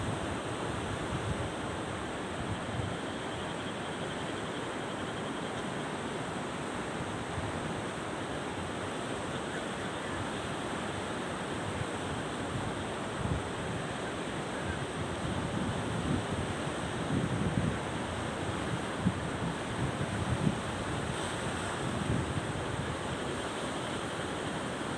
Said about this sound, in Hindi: दरियाए सबा में इस वक्त शदीद तुग़यानी है और पानी आबादी में दाखिल हो चुका है।